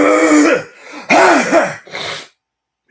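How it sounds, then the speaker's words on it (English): A man clears his throat in a few rough, close bursts, followed by a brief silence. "I had to clear my throat there."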